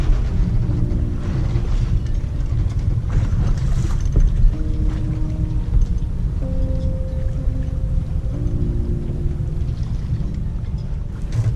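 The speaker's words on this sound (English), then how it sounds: "I had to start the diesel and charge the batteries this way" A boat's diesel engine, run to charge the batteries, drones steadily at low pitch, loud and close, with a faint tonal whine drifting in and out over the rumble.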